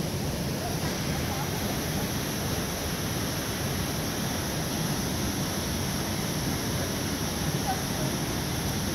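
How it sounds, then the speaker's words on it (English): The waterfall at a river mouth, 4 o'clock falls near Edgewood, B.C., gives a steady, broad rushing roar of falling water that stays even and unbroken throughout, moderately loud with no clear voices. "In an Oakland River mouth waterfall."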